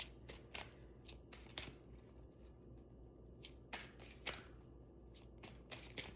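Tarot cards are shuffled close up in a quiet room, with repeated crisp riffling bursts arriving at irregular intervals between softer slides.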